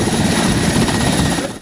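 Helicopter rotor and engine beating steadily and loudly during flood evacuations in Bosnia, a dense continuous chop with no voices.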